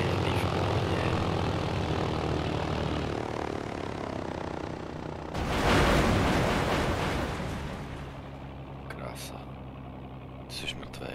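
A damaged propeller aircraft engine in a video game drones steadily and loudly, surging into a harsher roar midway before settling back, with radio-style voices talking over it.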